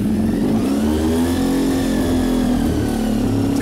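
A multi-cylinder motorcycle engine running loud and close just after ignition, with a continuous throaty drone whose pitch rises slightly and settles over a few seconds.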